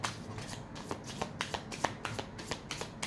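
Tarot cards are shuffled and drawn close up, making a quick run of crisp riffling snaps at a fairly regular rhythm, soft and near.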